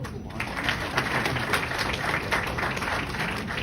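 Graduates and guests applaud a third-place award at a PGDM convocation ceremony, a continuous wash of many clapping hands that stays steady and moderately loud throughout.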